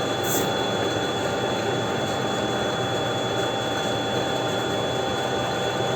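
A pellet mill making compound animal feed runs at about 80% speed with worn rollers and die, a steady loud mechanical drone and hiss with no pauses.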